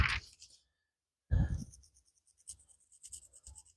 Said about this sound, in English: take your pencil, shade yourself on there a little bit